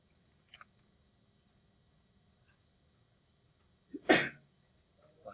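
A single loud, sharp sneeze bursts out near the end of an otherwise quiet stretch, preceded by a faint tick.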